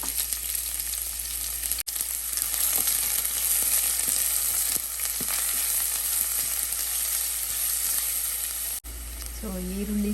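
Mustard seeds, curry leaves and finely chopped small onion fry in a pan with a loud, continuous close sizzle and hiss, brief breaks near the start and end, no voices.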